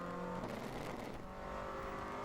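A race car engine at open throttle during an endurance race at Road America drones steadily at a distance, a faint continuous roar without clear passes.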